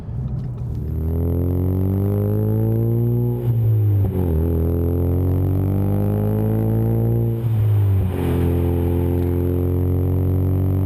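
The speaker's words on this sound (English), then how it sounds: "If you have an EcoBoost Mustang and you're looking for that loud, aggressive sound, that turbo sound" Ford Mustang EcoBoost fitted with an MBRP Race 3-inch cat-back exhaust revs up in a few loud, close pulls, each climbing then dropping back, with a deep, rumbling tone and no voices.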